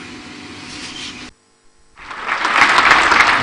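Participants at an international conference on mutual health insurance in Lomé stand and applaud; the ovation follows a brief gap and builds into loud, dense clapping.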